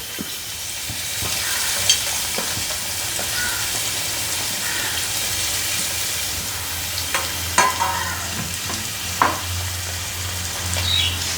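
Ingredients for pepper chicken sizzle and crackle in hot coconut oil in a heavy pan, a loud continuous hiss close by, with occasional stirring scrapes and pops.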